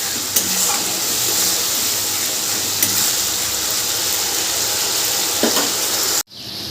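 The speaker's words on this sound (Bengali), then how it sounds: "মশলাটা একটু কষে নিতে হবে এই সময়।" Spice paste for Bengali katla fish kalia fries in a pan with a loud, continuous close sizzle, broken by a few faint stirring scrapes before it cuts off abruptly near the end.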